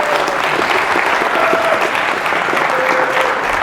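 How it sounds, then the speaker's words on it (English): A game show studio audience claps in a loud, dense, continuous burst of applause that fills the whole stretch, with no break. "Please give them a big round of applause."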